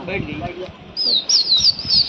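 A racing pigeon flapping its wings in a loft in Lucknow, soft flutters at the start followed by a run of thin, high chirping calls close by.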